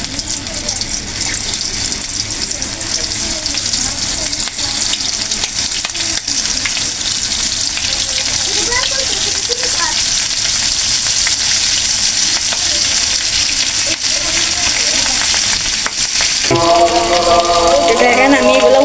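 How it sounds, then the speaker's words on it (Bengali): Semolina and potato chops deep-fry in hot oil with a loud, continuous, close sizzle and bubbling that hardly varies throughout, a brief clatter of handling near the end. "এগুলা আমি এখন তেল ভাজবো"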